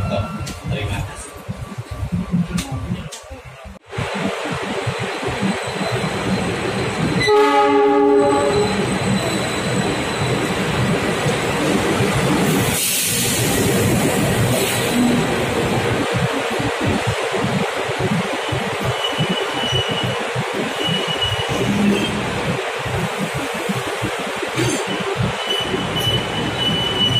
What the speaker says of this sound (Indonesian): Sesaat lagi kereta api Bangunkarta tiba di stasiun Purwokerto